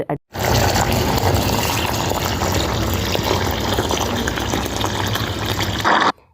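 Ice-cold water runs and splashes steadily in a kitchen while rice is washed, a loud continuous rush of pouring water that starts and stops sharply, with no voices.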